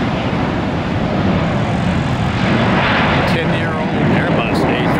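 A ten-year-old American Airlines Airbus A321 airliner passes near Tampa International Airport, a loud broad engine roar that fills the whole stretch steadily and swells slightly toward the end, with no talk over it.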